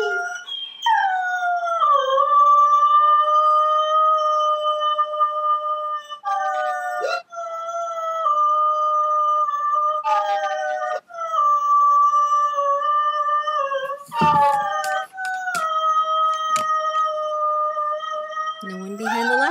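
A greyhound howls in long, drawn-out tones, several sustained wails in a row with brief breaks between them, close and clear.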